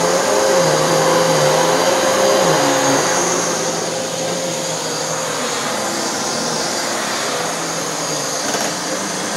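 A small old Dirt Devil vacuum cleaner runs steadily and loud throughout, its motor whine wavering in pitch early on before settling into a constant drone with a slight squeak.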